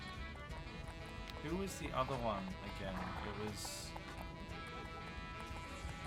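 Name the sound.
horse hooves clip-clopping in video game The Movies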